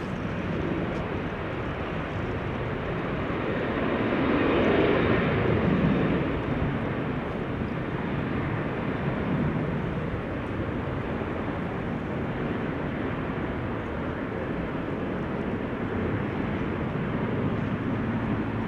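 GE90 jet engines start up at Amsterdam Schiphol Airport, a broad steady roar at moderate distance that swells slightly in the middle and holds as a continuous rumbling drone.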